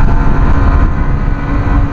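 Engine of a Honda Winner X 150 motorcycle pulling hard in fifth gear, a loud steady drone with dense low rumble and continuous road and wind noise, no talk over it.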